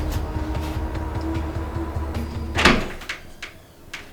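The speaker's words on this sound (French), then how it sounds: "Il suffit d'ouvrir cette poignée." A door handle turns and a door opens in a French short crime film about a missing sheep, a sharp click and clatter at mid-clip over a steady low hum, followed by a few fainter knocks.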